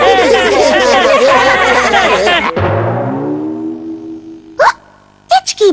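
A cartoon character hiccups in a Hindi dub of the Ninja Hattori kids' show, loud bursts rising out of busy chatter, then a falling tone and a few short sharp hics near the end.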